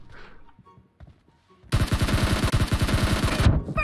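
Rapid automatic gunfire from a PUBG Mobile match bursts in loud and sustained after a quiet stretch, a dense string of shots firing steadily for nearly two seconds, with faint game sounds and murmured voices beforehand.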